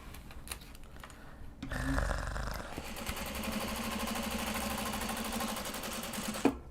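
A sewing machine stitches a welt pocket on a mini traveller piece. A dull thump comes first, then from about three seconds on a steady, rapid, close mechanical whir runs without a break to the end.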